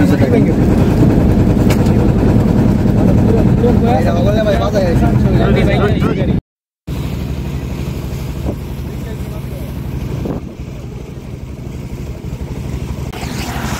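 Large trawler boats on a Bangladeshi haor wetland, their engines droning loud and steady with a low rumble, a brief gap midway, while someone talks over the noise.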